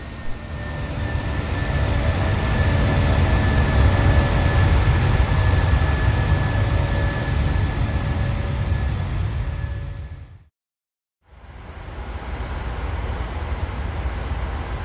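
Steady loud roar of engines and airflow on the flight deck of a PMDG 737 in a flight simulator on approach into Toncontin, cutting briefly to silence before the drone resumes.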